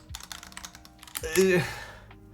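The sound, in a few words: typing on unlubed Squid 60 mechanical keyboard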